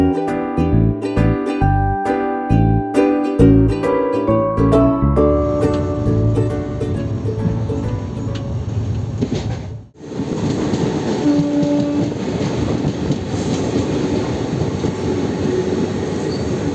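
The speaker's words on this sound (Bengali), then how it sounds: "ট্রেন রামপুরহাট থেকে ছাড়লো" The Ganadevta Express pulls out of Rampurhat station. Loud, regular wheel clatter gives way to a continuous rolling rumble with squealing wheels, broken by one brief drop before the steady roar returns.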